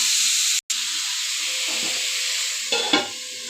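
Vegetables with turmeric and green chili fry in a pan for a vegetarian dish, giving a loud, steady sizzling hiss with stirring scrapes toward the end.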